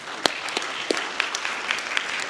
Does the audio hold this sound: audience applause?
yes